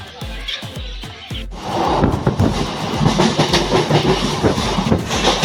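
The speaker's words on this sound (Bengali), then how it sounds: "কোন্নগর থেকে ট্রেনে উঠে পড়লাম।" An early-morning local train from Konnagar toward Howrah rumbles along, its wheels opening with a few distinct rhythmic clacks before it swells into a loud, dense, continuous roar of rolling carriages.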